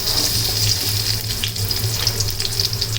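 Chopped onion hits hot soybean oil in a pan for a tengra fish curry and sizzles with a steady, dense hiss that holds evenly throughout, close and fairly loud, with no talk.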